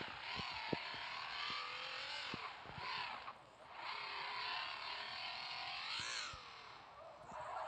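Car engine in a Russian crime video game drives and accelerates steadily, the loud broadband roar rising and falling in pitch as it revs, with faint tapping clicks on top.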